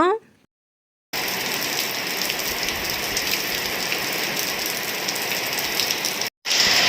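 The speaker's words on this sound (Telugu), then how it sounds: "సడన్గా వర్షం వచ్చేస్తుంది." Dense, steady patter of rain falling on a surface, continuous and close, after a brief sound and moment of silence at the start.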